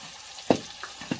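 Potatoes frying in a pan give off a faint, low sizzle broken by a few soft stirring knocks and bumps.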